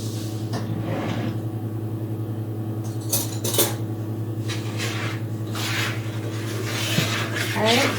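Spoon stirring Irish soda bread dough of flour and buttermilk in a bowl, with scattered scraping and clinking knocks against the bowl over a steady background hum, faint voice in the background.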